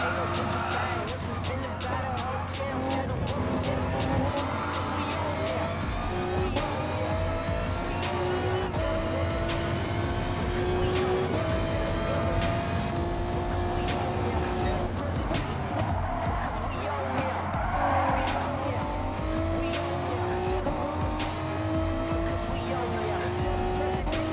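Honda NSX race car engine drones steadily in GT Sport Japanese GT racing, with rising and shifting revs, tyre squeal and other cars passing throughout, someone talking over the continuous racing noise.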